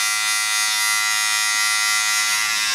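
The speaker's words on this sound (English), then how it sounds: "So this is just my cordless clipper all the way open. Just tapering the sideburns out a little bit" A cordless hair clipper with the guard fully open runs steadily while tapering beard sideburns, a close, even electric buzz that continues without a break throughout.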